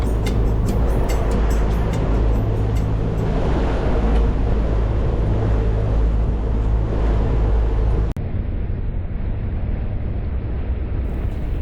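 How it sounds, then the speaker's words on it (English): Boat engines running on the Gold Coast Seaway, a loud continuous low rumble mixed with wind and water noise that drops sharply in level near the end. "The engines have been running well since we left Russell Island"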